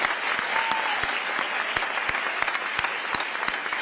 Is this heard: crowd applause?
yes